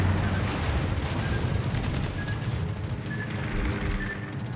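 Anti-aircraft defensive fire in World of Warships, the Prinz Eugen's AA guns, comes as a dense, continuous rattle of rapid shots at steady loudness throughout, with no talking.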